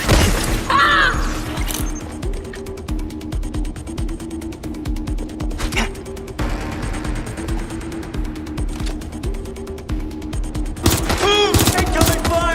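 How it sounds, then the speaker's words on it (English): Rattling automatic gunfire in Watch Dogs: Legion comes in fast repeated bursts with clanking mechanical clatter, loud and close, with sharper hits near the start and end. "Incoming fire!"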